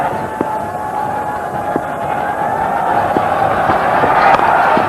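A cricket crowd at a 1998 Independence Cup match between Bangladesh and Pakistan roars steadily, a loud wash of massed voices that swells slightly toward the end, with faint sharp claps or bangs poking through.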